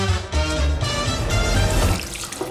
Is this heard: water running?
yes